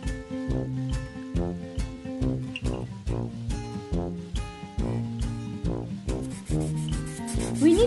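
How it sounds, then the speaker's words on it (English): Sandpaper rubs the coating off a tin can in about a dozen rhythmic back-and-forth strokes, close up and fairly loud, with no talking. "Now I want to sandpaper."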